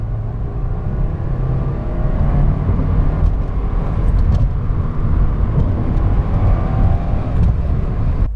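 A Subaru WRX accelerating in third gear after a rev-matched downshift, a loud, close, steady engine drone with a broad rumble that swells slightly as it pulls, no talking.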